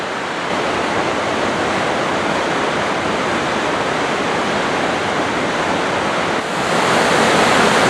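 The Coquihalla River rushes in a steady, broad, loud roar of flowing water near a highway, unbroken throughout with a slight swell near the end.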